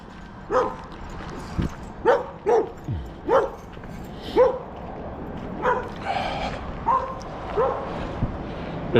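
A large black poodle-like dog barks repeatedly at a passerby on a road, sharp, close barks with a few yips and whimpers in an irregular series, one heavy footstep thud in between.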